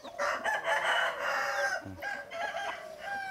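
A rooster crows loudly and close by, a long strained call followed by shorter crowing bursts amid clucking fowl.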